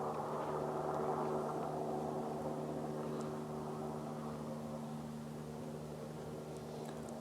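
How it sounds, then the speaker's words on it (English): A jet aircraft slowly taxis at the far end of Naples airport, producing a steady, distant low engine drone with a constant hum throughout and no voices. "The aircraft is on the far end, just slowly getting its way"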